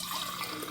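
Water rushes from a tap into a bottle being filled: a brief, steady, bright splashing flow with no voices.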